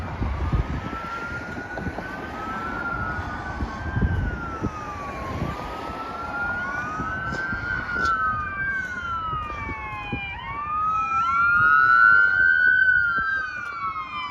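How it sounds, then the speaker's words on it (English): An ambulance siren wails through town, rising and falling in repeated sweeps that grow louder as it approaches and passes close by over the street hum. "Here comes an ambulance."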